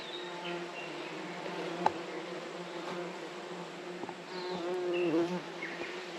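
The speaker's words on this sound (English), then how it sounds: "The one problem at these camps and all the way along are the bees" Bumblebees buzz around a wilderness camp in New Zealand's Cobb Valley, a steady close drone of several insects with the pitch shifting as they move, and no voices.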